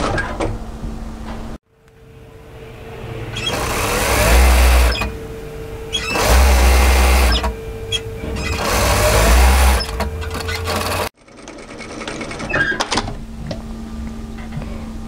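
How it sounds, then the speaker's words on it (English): A sewing machine stitching a long 1 cm seam on a tailored knit military-style jacket, three loud sustained whirring runs with brief pauses between, recorded close. "sew this long seam"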